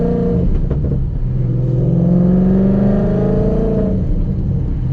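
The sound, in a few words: tuned Mustang exhaust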